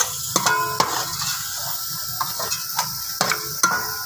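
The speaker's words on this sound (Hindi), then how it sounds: "अब इसके अंदर मैं ये मसाले जो कि मैंने आपको दिखाए थे, ज़ीरा, काली मिर्च और ये खुश्क धनिया, ये हम जो है इसमें डाल लेंगे और इनको जो है अच्छी तरह से मिक्स कर लेंगे" Cumin, black pepper and dried coriander stirred into a sizzling pan for Punjabi pakora kadhi, a steady frying hiss broken by several sharp scrapes and taps of the spoon, close and fairly loud with no talking.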